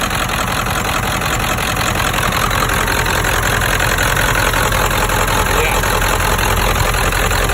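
A 1997 Ford F350 with a 7.3 Powerstroke diesel and a straight pipe idles loud and close. The engine keeps up a rough, steady rumble with a knocking clatter, and a brief voice is heard over it.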